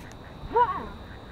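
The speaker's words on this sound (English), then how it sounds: "Duck action!" Ducks at a park pond during mating season, a single brief nasal quack rising out of steady outdoor background noise at moderate distance.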